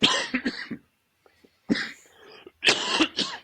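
A person who is getting over a cold coughs in close, loud bursts. Several quick coughs come, then a short pause, then more rough coughing and throat clearing.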